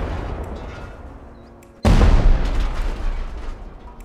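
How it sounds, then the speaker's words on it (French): Helicopter explosions in the survival video game Rust, a dull rumbling bed broken by one sudden heavy blast that booms loudly and then decays slowly with a long rolling tail. "Le son des explosions des petits hélicoptères et des gros hélicoptères a été mis à jour."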